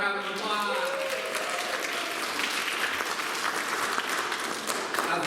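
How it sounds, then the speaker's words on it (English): An audience bursts into sustained applause for a first-time speaker, a dense, even patter of clapping that fills the room for several seconds without letup. "Everyone give Kyle a round of applause."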